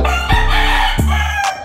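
A pricey gamecock crows loudly and close by, its long harmonic call sustained across the whole stretch with a couple of sharp breaks.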